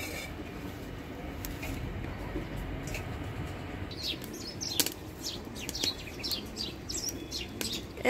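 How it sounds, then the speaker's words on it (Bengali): A flock of sparrows arrives around a rooftop, with a rush of flapping wings followed by quick, bright chirps from several birds, fairly close against a quiet outdoor background. "এক ঝাঁক চড়ুই পাখি আসছে।"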